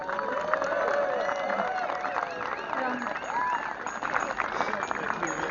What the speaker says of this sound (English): they deserve a big cheer